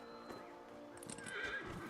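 A horse in the fantasy role-playing video game Dragon Age: Inquisition gives a clear whinnying neigh over soft hoof clops and ambient game sound, moderately near and fairly quiet.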